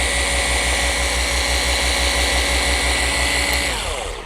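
A polisher works cerium oxide polish over a glass windshield, giving a steady, close motor whine with a faint rhythmic pulse that trails off slightly at the end, with no talk.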